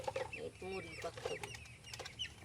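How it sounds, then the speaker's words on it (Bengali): A hen clucks in short, soft bursts at a quiet rural spot, several brief calls scattered over faint background sound. "ও বাড়ির মুরগি না?"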